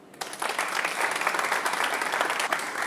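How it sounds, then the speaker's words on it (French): An audience at a Christmas variety show claps steadily for a few seconds, a dense, even burst of applause that starts abruptly and holds throughout. "Franck Olivier, que je vous demande d'applaudir"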